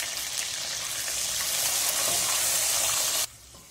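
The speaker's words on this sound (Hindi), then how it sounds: "अब हम इसमें डालेंगे हरे मटर, इसे हम अच्छे से फ्राई कर लेंगे।" Green peas frying in hot oil, a steady dense hiss that holds for about three seconds and then cuts off abruptly, close and even, with no talking.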